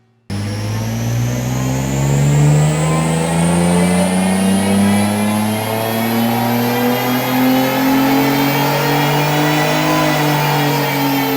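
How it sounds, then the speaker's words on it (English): A Nissan 350Z engine revs up steadily under load on a dyno, its pitch climbing smoothly and continuously for several seconds, loud and close, with no voices. "let's check out a dyno run with our 350Z behind us"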